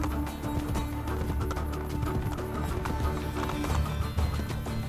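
Rapid, steady hoofbeats of a galloping horse in Assassin's Creed Brotherhood clatter continuously over a dense background of game music and effects.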